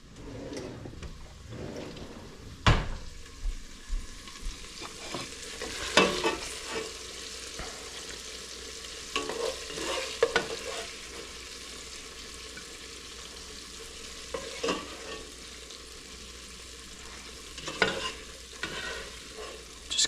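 A steak gets a quick sear in a hot pan for a southwest steak bowl, a steady close sizzle running throughout, punctuated by sharp clacks and scrapes of a utensil against the pan, with no talking.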